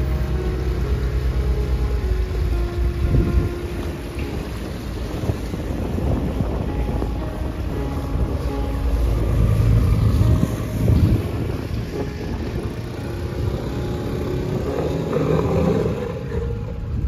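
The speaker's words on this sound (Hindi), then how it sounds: "I am thoroughly enjoying this boat ride" Boat ride on the Alleppey backwaters in Kerala: a steady engine rumble and water wash run throughout, with constant wind buffeting the microphone and no talking.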